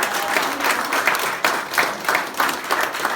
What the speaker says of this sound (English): So round of applause from all